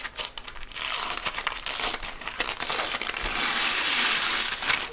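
Paper being carefully lifted and peeled off fabric for a mixed media sachet craft project, with close crinkling and tearing rustles that swell into a sustained papery hiss.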